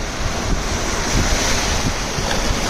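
Ocean waves wash continuously onto a shoreline with a broad rushing hiss, mixed with heavy wind buffeting against the microphone.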